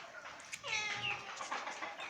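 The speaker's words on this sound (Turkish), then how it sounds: "İşte kedi." A cat meows once in a drawn-out, fairly close call, set against light background noise with no talk.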